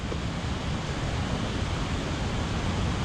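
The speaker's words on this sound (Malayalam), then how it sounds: "ഇവിടെ തട്ടപ്പുറത്ത് ഒരു പുഴ ഒഴുകുണ്ട് കേട്ടോ സൗണ്ട് കേൾക്കാണ്ട് പക്ഷെ കാണാനില്ല" A river flowing out of sight near a hillside house in Sikkim, on a road hit by landslides. It gives a steady, even broadband rush of water across the whole clip with no talk.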